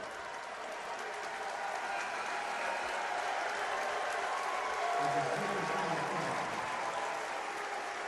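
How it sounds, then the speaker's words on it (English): Basketball arena crowd at a St John's at Fordham game giving a standing ovation, a sustained roar of applause and cheering that fills the space evenly and swells slightly midway, with no clear voice above it. "He has no choice but to get the ovation. He's demanding his ovation. Listen to this crowd."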